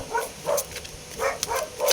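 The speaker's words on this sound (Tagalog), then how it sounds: "Maingay ang aming mga aso." Several dogs barking in short bursts, a cluster of yaps near the start and more barks toward the end, fairly close with quiet gaps between.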